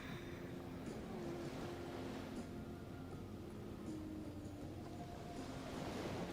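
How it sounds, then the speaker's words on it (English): Ocean waves wash steadily behind an outdoor yoga session, a continuous broadband surf roar with no distinct breaks, moderately faint and constant throughout. "with the beauty of the ocean waves behind us"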